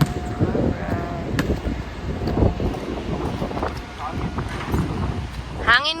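Wind buffets the microphone with a loud, gusty rumble at Costa Maya, Mexico, while people talk nearby under the noise.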